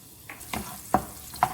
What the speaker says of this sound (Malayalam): ഇപ്പം അതേ നെയ്യിൽ ഞാൻ കുറച്ച് തേങ്ങ ഇട്ട് കൊടുക്കുന്നുണ്ട്.